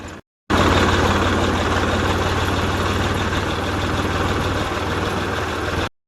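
A tractor engine runs steadily while ploughing a village field, a loud, continuous low rumble with a constant drone that holds for several seconds before cutting off abruptly.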